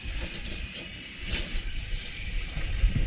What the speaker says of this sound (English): Now we're going to get some water, put it down in the hole, and see if it pumps.